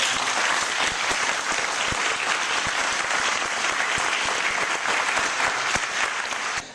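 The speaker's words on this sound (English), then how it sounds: "I don't know if we've clapped loud enough for the AmeriCorps volunteers, so let's do that again and recognize them" A crowd at a Martin Luther King Day service event with Nevada's governor applauds AmeriCorps volunteers with loud, sustained, dense clapping that fades near the end.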